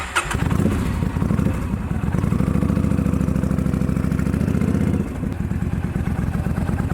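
A Yamaha V-Star 1300 motorcycle with a salvage title starts up close by, with a brief cranking burst and then a loud, steady rumbling idle that drops slightly near the end.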